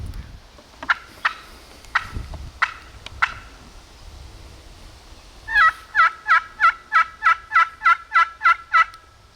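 A wild turkey gobbles a few times in the woods during turkey season, followed by a loud rapid series of about a dozen evenly spaced calls in a quick rhythm, close and clear with no talking.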